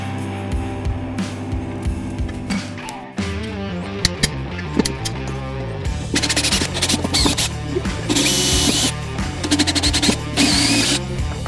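A power drill bores holes in a car's bell housing, pulled out of the vehicle with the engine removed, giving a loud steady motor whine that stops and restarts, with harsh cutting bursts later on and no talking.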